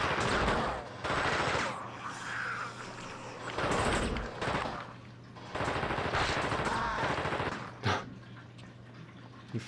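Weapon fire in the Xbox game The Thing: repeated bursts of loud automatic gunfire rattle through, broken by short pauses, with one sharper crack toward the end.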